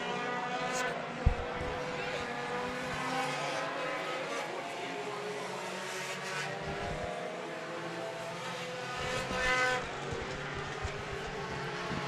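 Race cars lap a short oval at a memorial race, engines droning steadily and rising as they pass, with a commentator talking over the noise throughout.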